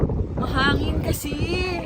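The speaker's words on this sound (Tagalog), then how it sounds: "Mahangin kasi." Cold, gusty wind at Cristo Roto in a Pueblo Mágico in Mexico rumbles across the microphone in a steady low roar. Voices talk over it throughout.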